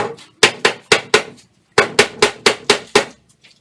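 Nine sharp hammer strikes ring out close by, in two quick rhythmic bursts separated by a short pause, with no one talking.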